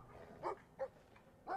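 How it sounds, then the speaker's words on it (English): Angry dog barking in the video game Brothers: A Tale of Two Sons, three separate gruff barks spaced apart, moderately loud over faint game ambience. "have a very angry dog that's trying to attack the brothers"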